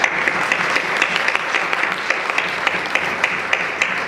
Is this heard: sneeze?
no